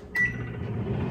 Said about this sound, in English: I'm about to go ahead and pop it in the microwave